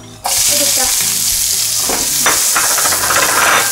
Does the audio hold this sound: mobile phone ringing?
no